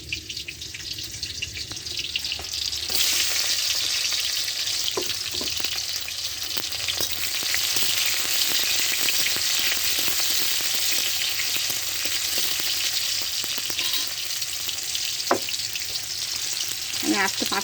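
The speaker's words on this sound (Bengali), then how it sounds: "পেঁয়াজ কুচি দিলাম, এই যে রসুন ছেঁচা নিয়েছি, এইভাবে রসুনগুলো ছেঁচে নিলাম।" Chopped onion and crushed garlic hit hot oil in a pan, bursting into a loud, steady hissing sizzle that runs on evenly with occasional stirring clicks, close and with no talk.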